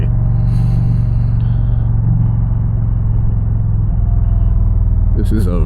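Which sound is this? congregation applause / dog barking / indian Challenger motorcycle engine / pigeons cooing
indian Challenger motorcycle engine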